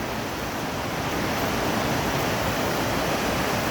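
Broad, steady roar of the River Ebro in flood at full flow, a loud, unbroken rush of fast water filling the whole clip, with no voices heard.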